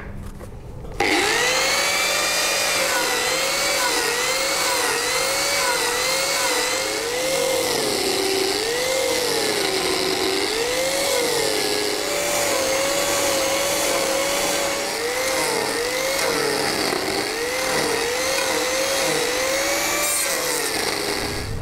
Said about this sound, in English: I'm just machining it straight down to follow that rough oval shape